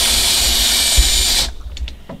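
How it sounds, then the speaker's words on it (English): A power drill with an oversized bit bores out holes in the transom of a Boston Whaler hull under restoration, a loud steady whine running for about a second and a half before cutting off to quiet. "The first thing I'm going to do is drill them out."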